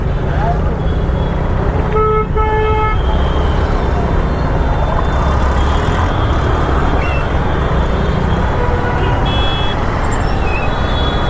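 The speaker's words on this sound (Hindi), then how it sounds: "ये देखो, ये मेहदीपट्टनम की ट्रैफिक है।" Busy evening road traffic in Mehdipatnam, Hyderabad, on New Year's, with a steady loud roar of engines, a car horn tooting repeatedly near the start and more honks scattered later, while a voice talks over the din.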